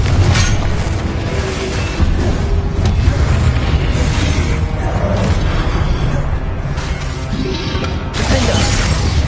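Confringo blasting spells going off in a loud Hogwarts Legacy battle, with dense continuous booming and crashing blasts layered throughout and no clear pauses.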